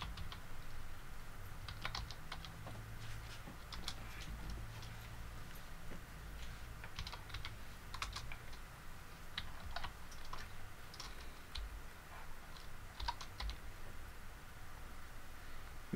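Computer keyboard being typed on continuously at a quiet, moderate pace, with irregular clicky keystrokes over faint background hiss while entering a password; no talking.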